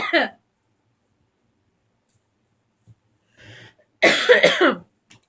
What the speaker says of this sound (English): My allergies made me cough.